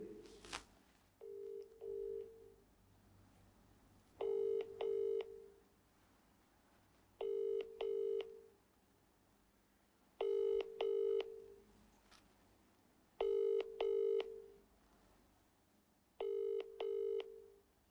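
A telephone dialing out on a call: several quick bursts of keypad tones come in groups at a steady pace, clear and fairly loud, with faint ringing or line tones between them and no talk.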